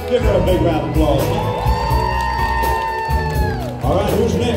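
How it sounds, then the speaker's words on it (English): Crowd at a tribute show in Weyburn erupts in loud applause, cheers and whoops, a steady roar with music tones ringing over it throughout, briefly dipping near the end. "Give her a big round of applause."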